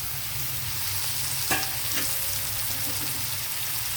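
Raw plantain pieces, curry leaves and green chillies fry with onions in hot oil, giving a steady loud sizzle with a couple of brief stirring scrapes.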